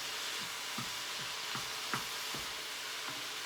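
Thawed hamburger meat cooking down in a pan, a quiet continuous sizzle with soft, regular scraping stirs.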